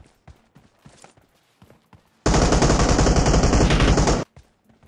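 Automatic gunfire in the mobile battle-royale game PUBG Mobile: quiet scattered clicks and steps, then a loud, sustained close burst of rapid shots lasting about two seconds before cutting off abruptly.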